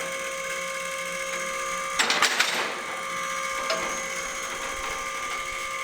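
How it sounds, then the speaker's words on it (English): Wrench work on a cooler line fitting of a 1969 Dodge Charger gives a short cluster of sharp metallic clicks and ratchet-like ticks, close and moderately loud over a steady background hum, followed by one faint click. "Cooler line. Let me tighten it up."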